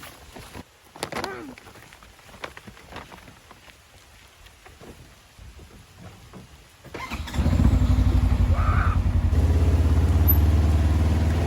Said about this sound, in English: I think the rain's coming.